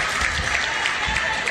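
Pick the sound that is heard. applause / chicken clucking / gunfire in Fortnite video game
applause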